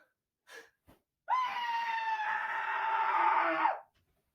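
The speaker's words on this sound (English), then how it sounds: "I need a pillow to scream" A person lets out a single sustained scream muffled into a pillow, rising loud for a couple of seconds after a few short breaths, then cutting off.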